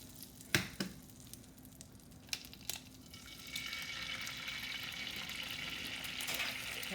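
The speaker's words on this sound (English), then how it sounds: "And when I fry eggs, I do like a little bit of butter for the flavor." Oil and butter sizzle in a frying pan for eggs, starting with a few sharp clatters and pops before a steady close hiss settles in and holds to the end.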